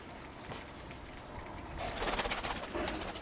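Soft pigeon cooing rises over a faint background hiss, growing a little louder and busier toward the end.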